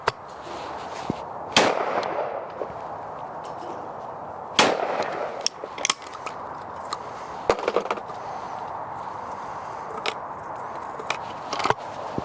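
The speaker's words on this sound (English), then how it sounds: "So, let's have a shoot and let's see what the gun is like." Shotgun blasts from a Browning over-and-under at an outdoor clay shoot ring out as several loud, sharp reports spaced a few seconds apart, each trailing into open-air echo over a quiet background.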